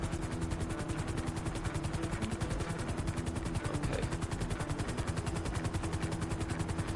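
Helicopter in GTA Online, a steady rapid rotor chop filling the scene with loud continuous thumping and engine roar, with no voices.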